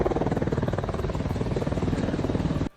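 Apache attack helicopters produce a steady, loud rotor and engine roar with a rapid rhythmic chop that continues unbroken, then cuts off abruptly at the end.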